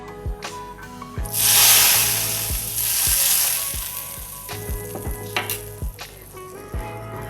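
Steady hissing and sizzling from a pot of chana dal payasam with coconut milk boiling on the heat, with occasional stirring scrapes and knocks, fairly close and loud, no talking.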